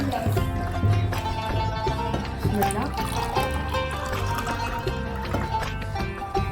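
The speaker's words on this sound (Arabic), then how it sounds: "انا اصب لكم عصير" Juice poured into glasses while a Ramadan iftar meal is served at home, a steady liquid splash mixed under continuous talk and background music throughout.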